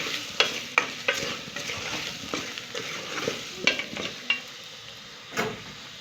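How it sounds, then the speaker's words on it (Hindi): Spices being stirred into potatoes in a frying pan, with a soft sizzle under repeated scraping strokes of a spoon, close and quiet. "इसी को हम मिक्स करेंगे ताकि हमारे जो आलू हैं उसमें कलर आ जाए।"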